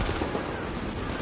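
Gunfire rattles in The Division multiplayer, a dense, continuous burst of rapid shots with no talk over it.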